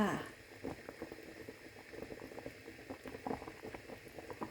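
Supermarket corn boils in a pot with continuous bubbling water, a busy burbling texture that stays fairly quiet and even throughout.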